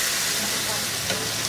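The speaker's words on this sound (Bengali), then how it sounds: "ওটাও একটু ভাজা হয়ে যাবে।" Eggplant and capsicum fry in a little oil while being stirred. A steady, loud, close sizzle runs the whole time with faint stirring scrapes.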